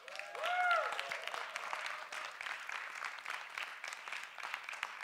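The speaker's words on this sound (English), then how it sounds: "give yourselves a big cheer if you've been here since 11 a.m." A science festival audience at the Famelab International Final in Cheltenham bursts into dense, sustained applause, with a brief whoop or whistle rising early on as the clapping carries on steadily.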